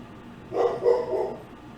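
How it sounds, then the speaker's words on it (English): A pet dog interrupts indoors with a short burst of two or three yips and barks at moderate distance, rising briefly over a faint background hum before quieting again. "my dog's interrupting me again"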